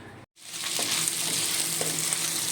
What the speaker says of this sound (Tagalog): nagisa na natin yung beans